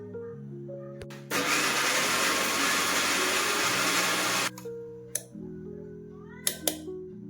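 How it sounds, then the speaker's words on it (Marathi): A kitchen mixer grinder pulverises biscuits in one loud burst of roughly three seconds, whirring steadily before cutting off, with quiet room sounds and a few clicks before and after. "हे बिस्किट मला मिक्सरला लावून घ्यायचं आहे."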